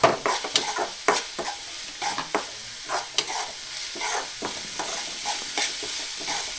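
Onion frying and starting to burn in a pan on a stove: a soft continuous sizzle broken by rapid, irregular scraping and tapping as it is stirred, close by and without voices.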